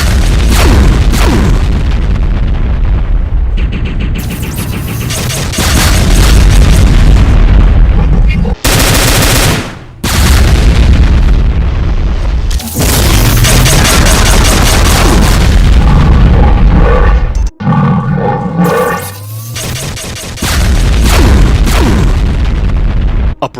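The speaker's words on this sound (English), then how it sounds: "a single barrage of BFG 10K shots," BFG 10K barrage in a Doom mod, loud continuous booming blasts and rapid crackling explosions layered densely, with brief gaps of near silence between bursts.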